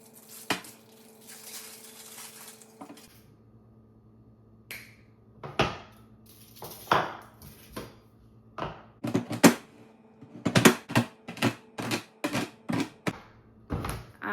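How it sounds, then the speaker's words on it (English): A knife chops frozen unsweetened baker's chocolate on a board, sharp crisp cuts that start sparse and speed into a quick irregular series of clacks, close and clear with no talk. "Chop your chocolate."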